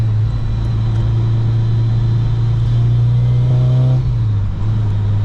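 Turbocharged 350HP 8th gen Honda Civic Si running on 10 pounds of boost, a loud steady low engine drone heard from inside that climbs in a rev then dips back, with no talk.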